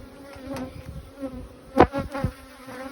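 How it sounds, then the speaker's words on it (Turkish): Close buzzing of a honey bee with a few louder swells as it passes near, no talking. "Irk çok önemli ya bakın şu arı."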